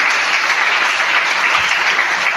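Church congregation applauding in praise, a steady, dense wash of clapping from many hands that stays loud and even throughout with no voices standing out.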